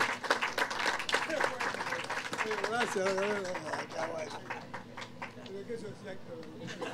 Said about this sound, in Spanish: pagarles con un aplauso que yo les pido que se lo den a ellos